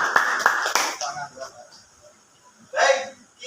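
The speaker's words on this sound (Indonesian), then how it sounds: "tepuk tangan buat Aneta" Classroom applause for a student named Aneta during an Islamic religious education lesson, a few quick claps at the start and another brief burst near the end, with talking between them.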